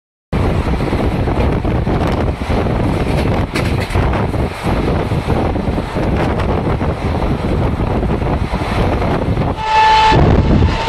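A Howrah-Jamalpur Super Express runs on the rails of the Khana-Kiul-Sahibganj loop, giving a loud, close, unbroken roar of wheels and carriages with wind buffeting. A brief steady whistle-like tone sounds near the end.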